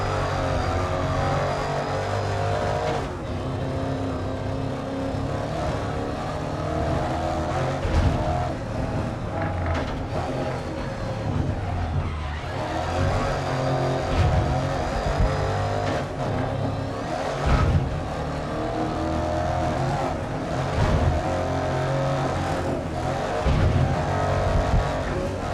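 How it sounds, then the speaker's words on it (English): A race car engine in the game GRID Legends drones continuously for the whole stretch, its roar wavering and dipping unevenly as the engine stutters, with other cars and track noise mixed in. "I'm hearing the engine stutter"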